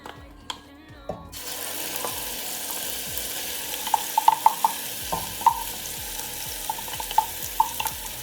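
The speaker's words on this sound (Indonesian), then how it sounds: "Setelah minyaknya panas, kita masukkan bumbu yang sudah dihaluskan tadi ya." Ground spice paste for rendang hitting hot cooking oil, a steady close sizzle and frying hiss that starts abruptly, with light stirring clinks and taps over it.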